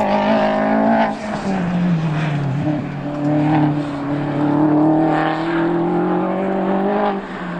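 A loud, fast car engine at an autocross event roars steadily and climbs in pitch as it accelerates, revving hard through gear changes without pause.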